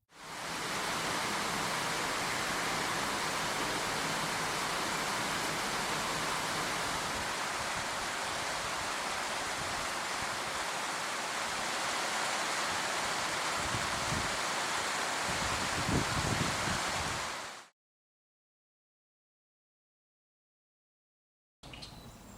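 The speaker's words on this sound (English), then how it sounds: "It is a very rainy day with heavy showers as the juveniles hang out at the pond." Heavy rain pours down steadily at a pond, a dense, even hiss of downpour that holds constant and loud for most of the span, with a few low thumps near the end before it cuts to silence.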